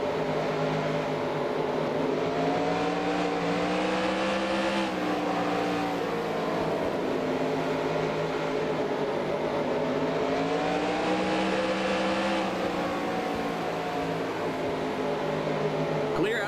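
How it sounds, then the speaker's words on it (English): A race car engine roars in NASCAR Racing 2003 during a PASS North Series race at Oxford Plains, a loud continuous drone whose pitch rises and falls as the car laps, with no breaks. "Car outside."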